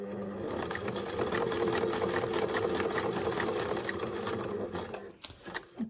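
A sewing machine runs steadily while stitching diagonal rows on a beginner's tote bag, a fast, even mechanical whir and needle chatter that stops near the end with a few clicks and knocks.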